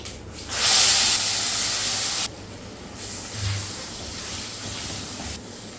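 Batter mixed with asafoetida and curry leaves poured into hot oil for Tamil cooking, bursting into a loud sizzling hiss that settles into a steadier, quieter crackle and fades.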